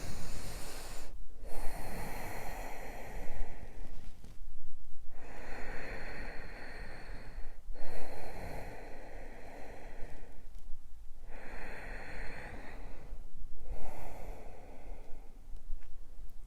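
Deep, audible breathing while holding a pose in a slow-flow yoga class, several long inhale and exhale cycles in a steady rhythm with brief gaps, close and clear with no talking.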